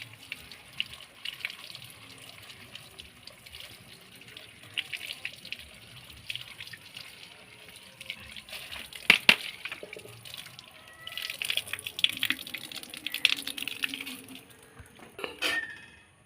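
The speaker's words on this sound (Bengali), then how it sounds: "সুন্দর করে আমি কলের জলে ধুয়ে নিচ্ছি।" Leaves washed by hand under a running tap, with soft splashing and trickling water, quiet at first and then louder bursts of flow and handling near the end.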